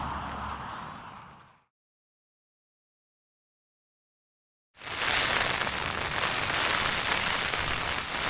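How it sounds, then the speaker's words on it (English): Rain patters on a tent at a campsite near Capel Curig in Snowdonia, a dense and steady hiss that fades into silence and then returns louder and fuller. "I'm going to try and wait out this rain"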